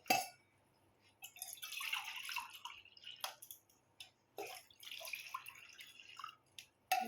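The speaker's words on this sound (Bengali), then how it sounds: "এটা ছেঁকবো ছেঁকে দিয়ে দেবো" A liquid drink being strained, with trickling, dripping pours into a vessel in several bursts separated by short pauses, close and fairly quiet.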